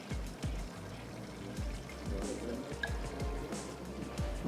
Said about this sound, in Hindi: तो मैं इसमें थोड़ा सा और पानी शामिल कर देती हूँ